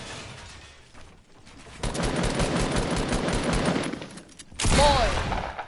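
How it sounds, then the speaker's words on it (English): Loud, sustained automatic gunfire in the Fortnite video game rattles in dense rapid bursts, drops briefly, then returns in another heavy burst. "I'm getting shot at."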